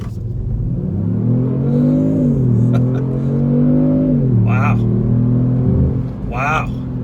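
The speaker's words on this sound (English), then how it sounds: "We're gonna accelerate a little bit here." A 2018 Kia Stinger GT with a twin-turbo 365-horsepower engine accelerates from inside the cabin. Its loud engine note climbs steadily, dips, then climbs again, and brief voices come in near the end.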